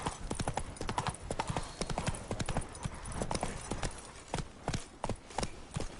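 The horse Roach gallops in The Witcher 3: Wild Hunt, Blood and Wine, with quick, rhythmic, clearly defined hoofbeats throughout, sounding close and steady.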